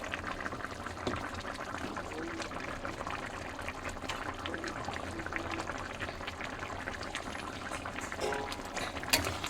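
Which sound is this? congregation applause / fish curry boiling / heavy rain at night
fish curry boiling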